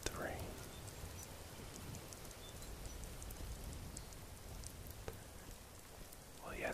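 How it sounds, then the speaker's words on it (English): Steady soft rain falls through an outdoor stretch of the Skyrim video game near Riften, a continuous gentle patter with a few faint brief sounds rising over it. "Sound of the rain."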